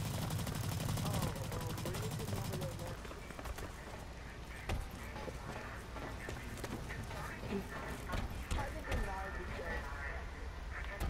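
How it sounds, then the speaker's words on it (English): Burst submachine gun fire in the online shooter Blacklight: Retribution, rapid clustered shots with dense crackling bursts over a loud game mix, continuing throughout alongside other battle noise. "That's the first submachine gun."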